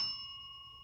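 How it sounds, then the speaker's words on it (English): A single short bell ding rings clearly, then its clear tone decays faintly for under a second with no talk. "we have the homework bell"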